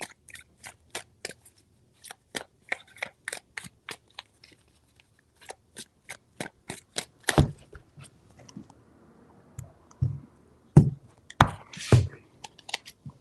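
Tarot cards are shuffled in repeated bursts of crisp, close card snaps and riffles, with short pauses between rounds and a few heavier slaps near the end.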